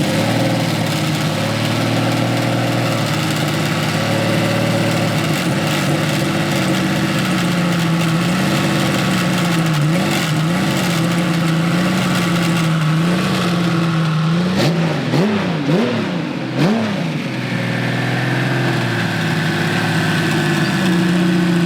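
An air-cooled Porsche 993 Turbo engine of about 800 hp fires up and settles into a loud, steady idle, with a few sharp throttle blips partway through before it returns to idling.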